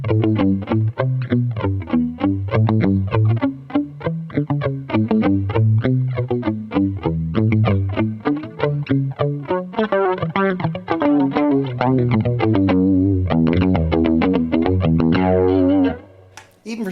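Distorted electric guitar through a flanger pedal, Electric Mistress or Longamp Roxanne, playing dense chords and riffs with a sweeping jet-like shimmer, loud and continuous before cutting off at the end.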